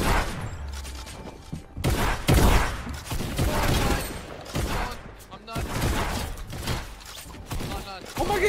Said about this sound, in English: Who am I getting shot by?